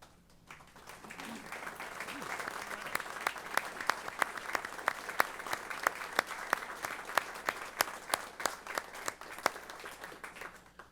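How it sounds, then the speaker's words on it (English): A meeting room audience at a state transportation commission session applauds its instructors, a sustained, even clapping that swells in after a quiet start and keeps going steadily at moderate distance with sharp individual claps poking through. "please give them a round of applause"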